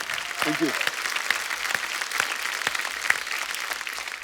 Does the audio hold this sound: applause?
yes